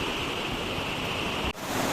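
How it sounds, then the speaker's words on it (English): Steady, loud rushing of the Solani river's flowing water, a continuous dense roar that briefly dips for an instant before resuming. "So yeah, it is, as you can see, the flow of water."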